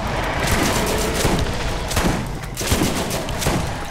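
Turret gunfire in the video game Borderlands, a dense, loud stream of rapid shots and booming blasts that fills the whole stretch without pause.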